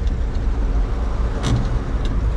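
A 1950 Chevrolet 3600 pickup pulls away in second gear, its engine giving a steady, close, continuous drone with road noise and no talking.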